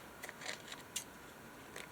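Scissors cutting through translucent paper for a junk journal page, heard as a few faint, quick crisp snips spaced irregularly over a quiet background.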